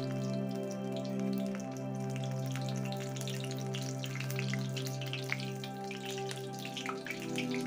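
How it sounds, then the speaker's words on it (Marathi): Soya chunks deep-fry in hot oil for a soya 65 recipe, giving a steady, fairly quiet bubbling sizzle with scattered pops and crackles. The sound runs evenly throughout, with no speech. "जे आपण हे पीस घेतलेले आहेत त्यातील फक्त असं एक एक उचलून असं सोडायचंय तेलामध्ये"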